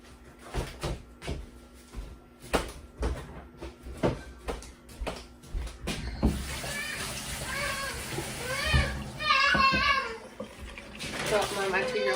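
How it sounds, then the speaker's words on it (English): A two-year-old throws a tantrum in a home kitchen, with repeated loud wails and sobbing cries that swell in the second half, following a run of sharp knocks and clatters. "So my 2-year-old having a tantrum."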